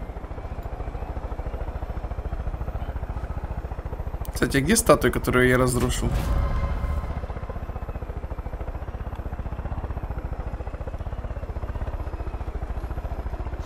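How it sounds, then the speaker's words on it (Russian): A helicopter in the video game Far Cry 5 flies with a constant loud rotor chop and engine drone, while someone talks over it and a brief clattering burst cuts in partway through. "я уже на вертолете доберусь до"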